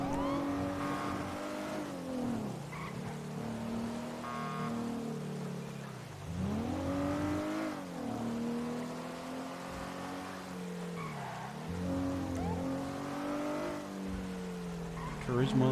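A car drives and revs in the video game GTA. Engine tones sweep up and down repeatedly with occasional tire noise, under steady conversation.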